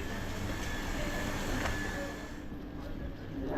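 A train pulls out of a fog-bound station in Bishnupur at half past one in the night, its steady rumble and rolling noise filling the scene as someone speaks over it.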